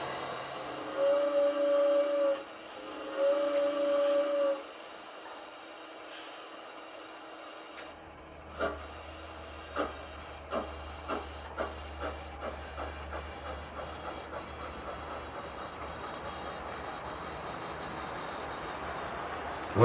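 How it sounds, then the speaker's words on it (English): An O scale model steam freight train chuffs rhythmically, the beats quickening under a steady hiss, after a pair of brief whistle toots near the start. "our freight train will proceed into the upper level staging loop"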